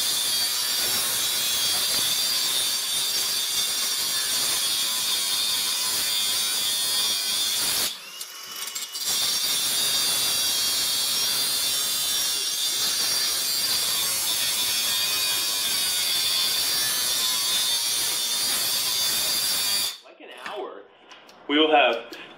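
Cordless brushless angle grinders from Ryobi and Makita, one on a fresh 6 amp hour battery and one with a dull blade, cut in a loud, continuous high-pitched whine that breaks briefly midway, with a person talking over it.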